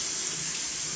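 Tap water runs steadily into a sink as baby back ribs are rinsed, a close, continuous splashing hiss with no voices.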